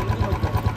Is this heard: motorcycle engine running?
yes